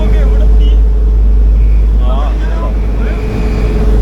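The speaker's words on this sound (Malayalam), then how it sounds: "ഈ ഇത്ര സ്പീഡിൽ ഈ നേവി ബോട്ട് പോയിട്ട് വരും നമ്മള്." Navy boat moving at speed, with a loud, steady low engine drone and rushing noise filling the whole stretch while people talk faintly over it.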